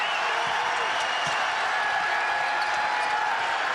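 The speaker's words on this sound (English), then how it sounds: "Listen to this crowd." A packed basketball arena crowd roaring continuously during a college game, a dense, sustained wash of cheering and noise with no breaks, moderately loud and distant-sounding.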